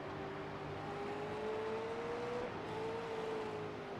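A V8 race car circles Suzuka in a racing video game, its engine a steady high whine that climbs in pitch, dips briefly and rises again, heard alone at moderate level.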